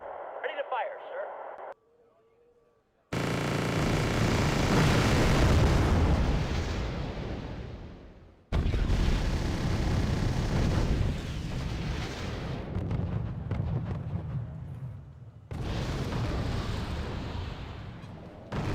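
Artillery fire in the video game Wargame: Red Dragon, heavy booming blasts that roll into long rumbling sustains, loud and overlapping, with radio-style voices talking over the barrage between volleys.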